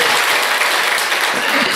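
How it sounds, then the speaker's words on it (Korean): A church congregation gives loud, dense applause to welcome newcomers, a steady wash of many hands clapping together close up. "우리 오늘 또 새로 오신 분들 위해서 한번 큰 박수로 환영하겠습니다"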